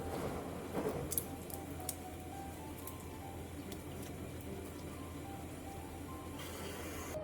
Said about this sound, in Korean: 새우 약 10마리는 꼬리 부분의 껍질을 살짝 남겨준 뒤 나머지 껍질은 전부 까주고 물에 깨끗하게 씻어서 준비해주세요